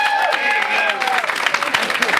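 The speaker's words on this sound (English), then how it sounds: "Clap if you got kids." A stand-up comedy crowd claps on cue, a brisk patter of many hands with a sustained tone and some voices mixed in near the start, continuing loudly throughout.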